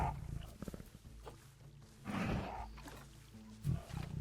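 Tigers in the zoo-building video game Planet Zoo growl and roar in a few rough, uneven bursts, with a louder roar near the end, heard close with no talking.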